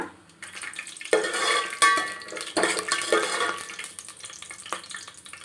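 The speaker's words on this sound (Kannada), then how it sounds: "ಫಸ್ಟು ಎಣ್ಣೆಯಲ್ಲಿ ಅವಲೆ ಇದು ಕಡಲೆ ಬೀಜನ ಹಾಕ್ಕೊಂಡಿದ್ದೀನಿ ಇದು ನೀಟಾಗಿ ಫ್ರೈ ಆದಮೇಲೆ" Peanuts fry in oil in a pan while a metal spoon scrapes and clatters against it in several loud, irregular bursts over a soft sizzle. The sound is close and there is no speech.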